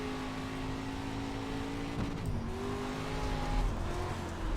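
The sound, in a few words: dirt street stock car engine in the iRacing video game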